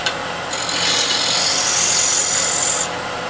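Standard scraper cutting a spinning wood workpiece on a lathe, a loud, steady high-pitched scraping hiss lasting a couple of seconds before stopping.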